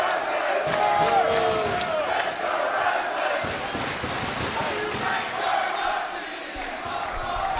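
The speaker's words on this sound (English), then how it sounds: "chorus of boos echoing down from this standing room only, be beyond capacity crowd" Large standing-room-only wrestling crowd at the Ted Reeve Arena booing in a sustained, echoing roar that fills the hall, loud and steady throughout with no single voice standing out.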